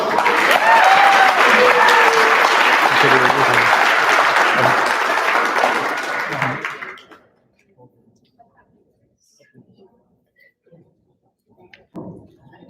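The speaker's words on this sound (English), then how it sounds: "a big round of applause" A wedding audience gives a big round of applause, a dense, loud wash of many hands clapping for about seven seconds before cutting off into near silence with faint room noise.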